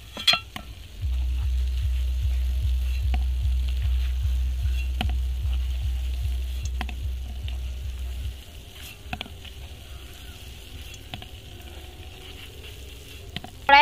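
Gulab jamun frying in a pan make a continuous bubbling sizzle for about eight seconds, then the sound thins to a quieter simmer broken by a few sharp clinks near the end.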